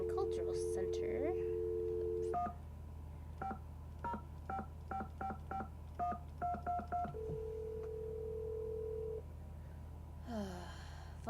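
Phone dialing in a Nancy Drew video game: a dial tone, then a quick run of about a dozen evenly spaced touch-tone beeps, a steady ring tone, and a faint breathy sound at the start and end.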